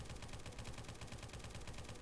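AK-47 in the video game Dread firing continuously in fast full-auto, a quiet, even stream of rapid shots running the whole time without a pause.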